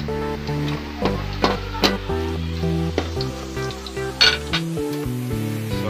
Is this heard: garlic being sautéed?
yes